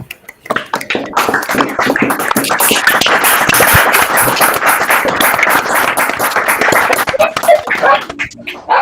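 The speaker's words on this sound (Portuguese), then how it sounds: "eu vou pedir para todo mundo abrir o microfone, fazer uma salva de palmas como agradecimento" An online audience claps at the end of a mathematics talk with open microphones, a dense, uneven spatter of sharp claps from many callers that swells, holds for several seconds and then thins out.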